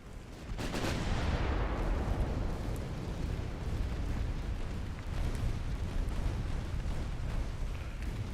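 Warship guns firing in Ultimate Admiral Dreadnoughts: a loud booming salvo that opens with a sharp blast, then a long rumbling roar that lingers and rolls on through the rest of the stretch.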